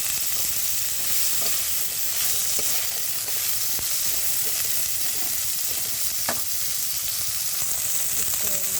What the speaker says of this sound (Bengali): উচ্ছে লাল লাল করে ভেজে নিতে হবে